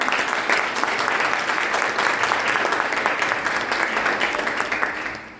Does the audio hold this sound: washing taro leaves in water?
no